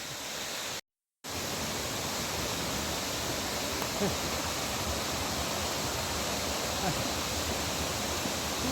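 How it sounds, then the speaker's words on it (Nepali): A waterfall of Himalayan snowmelt beside a trekking trail on the Annapurna Base Camp route pours in a steady, dense roar that fills the whole span, close and unbroken apart from a brief cut. "यस्तो झर्ना पनि भेट्यो है बाटामा"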